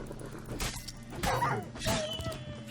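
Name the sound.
dogs being struck in combat in The Witcher 3 video game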